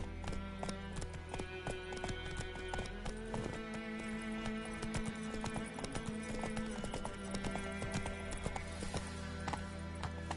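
Roach, Geralt's horse in The Witcher 3: Wild Hunt, gallops with a steady, driving clip-clop of hooves on a road, loud and close, under continuous game music.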